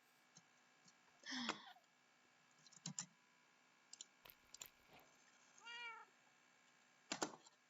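A cat meows several times in the video game Minecraft, short separate calls scattered between soft mouse clicks and keyboard taps, fairly quiet with no talking.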